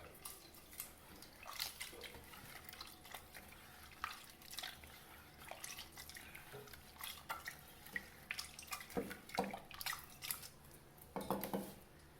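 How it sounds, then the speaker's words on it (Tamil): Tamarind soaked with salt being squeezed and dissolved by hand in water for an eggplant curry, faint close-up squelching, dripping and splashing in irregular bursts, with no one talking. "அடுத்தது நம்ம புளியை கரைச்சி எடுத்துக்குவோம்"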